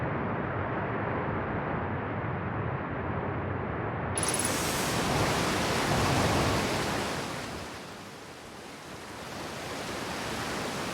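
A steady, loud roar of a waterfall in the video game Outer Wilds, on Timber Hearth, heard as dense rushing white noise that swells and dips slightly but continues without a break.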